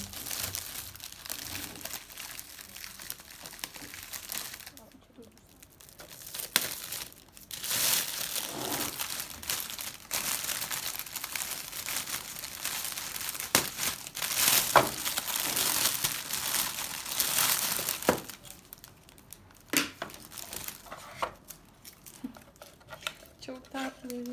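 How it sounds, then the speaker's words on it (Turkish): Gift wrapping on a present for a new baby is crinkled and torn open, with bursts of rustling, crackling paper running through most of the stretch, fairly close, and a voice speaking now and then over it. "Şimdi güzel hediyemizi açalım."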